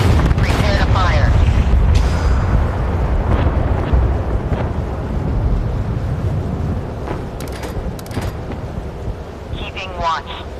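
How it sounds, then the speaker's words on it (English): Warship guns fire in the naval combat game Force of Warships, deep booming blasts rolling over a constant loud, rumbling, wind-like roar, with a few sharper cracks scattered through. "Prepare to fire."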